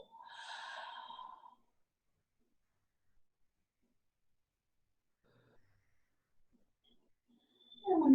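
A single long, audible exhale during a yoga practice, close and soft, lasting about a second and a half before near silence, with a faint rustle of movement at the end.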